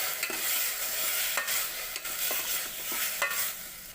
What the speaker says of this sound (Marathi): त्यामध्ये शिजलेल्या मुळ्या घालायच्या उकळलेल्या पाण्यात उकळून घेतलेल्या मुळ्या घालायच्या त्याला त्याला एकदा परतून घ्यायचं